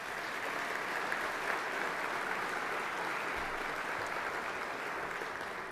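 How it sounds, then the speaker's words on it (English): An awards evening audience gives steady, sustained applause for patrons and sponsors, a dense even wash of clapping with no pauses and no voices over it. "A round of applause,"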